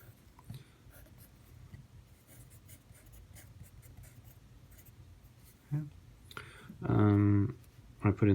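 A pen or marker draws a graph of x squared during a maths lesson, making soft, scratchy strokes near the microphone. A voice and a louder burst of sound come in near the end.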